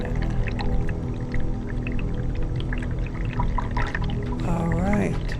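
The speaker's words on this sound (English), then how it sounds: "And there's the drain with water in it." Water running into a drain in a horror video game, a continuous pouring and gurgling wash with a low, moaning tonal sweep near the end, steady and fairly loud without talk.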